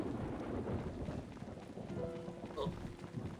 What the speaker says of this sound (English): Hope there won't be any more thunder.